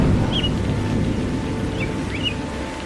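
Cartoon rain falls in a steady, even hiss that fills the scene, with a few faint bird chirps rising above it.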